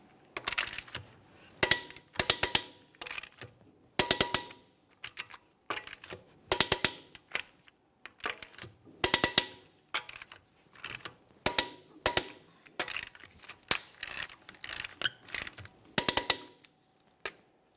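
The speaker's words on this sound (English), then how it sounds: "We'll be torquing these in a crisscross manner." A torque wrench tightens 22mm lug nuts in a crisscross pattern on the rear wheels of a 2017-2024 GMC Acadia, giving close, repeated bursts of rapid ratchet clicks with short pauses between them and no talk.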